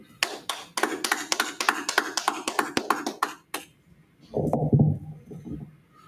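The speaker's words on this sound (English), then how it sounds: "All right, clap it up" Members of the Israelite School of Universal and Practical Knowledge clap together at a Black Watch gathering in Houston: sharp, rhythmic claps for about three and a half seconds, then the clapping stops and a low voice speaks.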